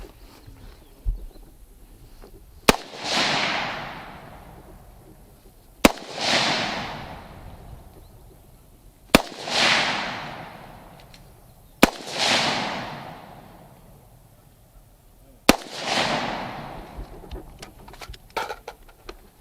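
Five loud rifle shots ring out at intervals of about three seconds during an advanced rifle training drill outdoors, each sharp crack trailing into a long echoing decay.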